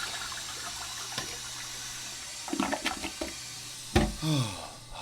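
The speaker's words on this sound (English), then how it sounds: "raced to the bathroom to flush the spider's body along with roughly 6 gallons of water" A toilet flushes in a bathroom within a horror audio story, a steady rush of water with gurgling swirls that swells near the end before draining away, heard alone and moderately close.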